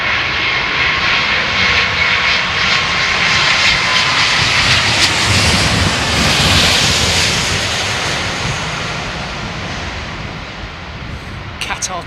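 El Al Boeing 777 jet airliner at London Heathrow: loud, close engine roar with bright high-pitched whine, strong at first then slowly fading, with wind buffeting and a few clicks near the end.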